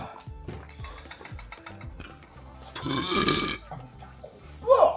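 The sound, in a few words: burp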